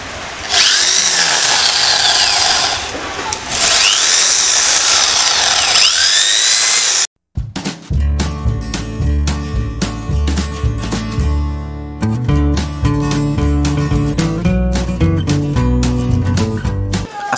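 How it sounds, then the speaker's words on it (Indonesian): A loud power drill with a 10 mm concrete bit whines steadily for several seconds, stops briefly, then a rhythmic mechanical hammering pound with bursts continues, close and harsh, as it bores into concrete. "Di sini saya menggunakan bor beton ukuran"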